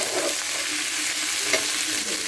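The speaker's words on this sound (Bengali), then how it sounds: "এই শুধু ছাতুটাকে আরেকটু অংশ ভাজতে হবে" Mushroom pieces fry in a pan with a steady, close sizzle, and occasional stirring scrapes break the broadband hiss throughout.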